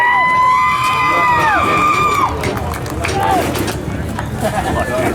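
Race fans at a late model stock car event, the 2016 Corn Harvest, cheer, whoop and shout during driver introductions, a dense and loud crowd roar that continues steadily throughout with high whistles and yells rising above it.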